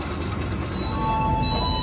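The Pandalungan train passes at Pasuruan station, heard as a steady low rumble of rolling wagons, with thin high metallic squeal tones rising over it.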